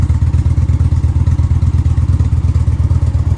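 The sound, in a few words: motorcycle engine idling with Stage 1 air cleaner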